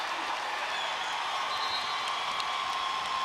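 Steady crowd roar and applause filling a basketball arena during a Chicago Sky game, a continuous dense wash of cheering with no breaks, heard at a distance.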